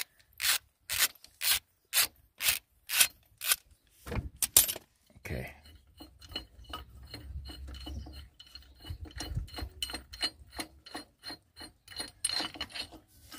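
Ratchet wrench undoing the crank pulley bolt on a VW Polo engine: a series of sharp, evenly spaced loud clicks, then a looser, quicker run of softer ratcheting ticks and rattles, close by.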